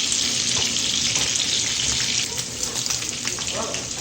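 Fish pieces fry in a pan over medium heat, giving off a steady, loud hiss and crackle with scattered sharper pops throughout.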